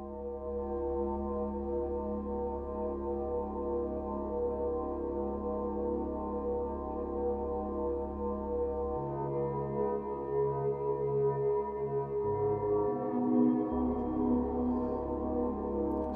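Sustained synthesizer drone from the Harmony Bloom melody app on iPad, processed through Stellavox reverb with a crystalline glacier setting, a continuous layered tone whose low notes shift a few times, steady and alone.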